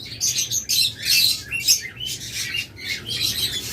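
A caged albino red-eye pair of pet birds, likely lovebirds or cockatiels, calling at close range with rapid shrill chirps and squawks in repeated overlapping bursts, with no one speaking.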